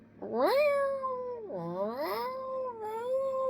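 A cat trapped under a car's hood lets out two or three long, drawn-out meows that rise and bend in pitch, close and fairly clear, with a faint background hum.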